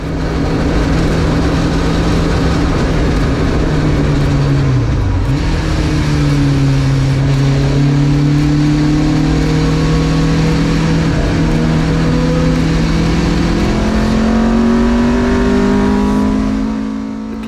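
Marcos race car lapping Donington in a classic racing class, its engine droning loud and close with smooth upshifts and a downshift marked by brief dips in pitch as it chases another car.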